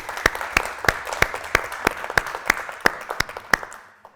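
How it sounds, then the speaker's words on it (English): A small evening audience applauds guest speakers after a startup Q&A talk, sparse distinct claps ringing out one by one in a loose rhythm, fairly close and clear, tapering off at the end. "Can we have a round of applause for our guest speakers this evening?"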